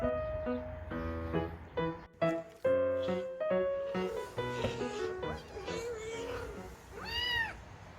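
Several stray kittens meow repeatedly outdoors, high and overlapping, close to the microphone, with one longer wavering cry near the end.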